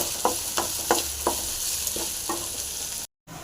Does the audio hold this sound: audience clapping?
no